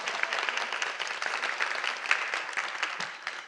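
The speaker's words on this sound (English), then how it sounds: "let's give her a round of applause." A round of applause for a judge at a talk on specialty courts, moderately loud scattered clapping from an audience, steady throughout and tapering at the end.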